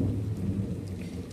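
Thunder rolls as a deep, rumbling roar during a rain shower, with the patter of rain falling on surfaces around it, close and continuous throughout.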